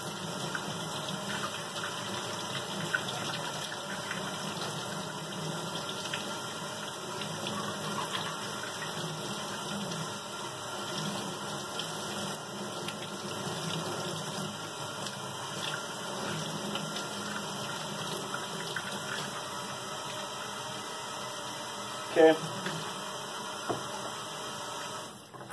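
Steady running water pours continuously, like a cold tap rinsing a brass HO scale model locomotive, with a faint hum underneath and a brief knock near the end.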